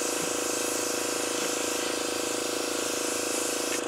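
Steady close hiss of a spray gun laying a second thin coat of CA finish onto a turned piece, a continuous broadband spray running unbroken for the whole stretch.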